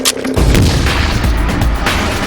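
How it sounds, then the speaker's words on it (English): Claymore mine detonating: a single loud, close boom with a deep low-frequency blast that decays into a rumbling tail over about two seconds. "Claymore mine."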